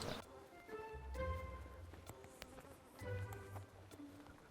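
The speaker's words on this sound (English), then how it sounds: "So it could just be a swarm that's arrived from somewhere else, because there are bees quite close by." A swarm of bees buzzes steadily close by in the open air, a dense droning hum that swells and fades, with faint voices in the background.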